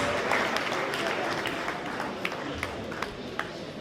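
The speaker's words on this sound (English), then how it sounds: "Clap with all your heart." A crowd applauding teachers at a national awards ceremony in Freetown, Sierra Leone, a dense wash of clapping that stays loud and even, with a few sharper individual claps standing out near the end.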